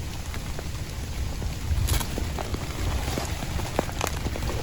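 Rain falls outside a tent at a campsite, a steady close patter with a few sharper drops striking the surface.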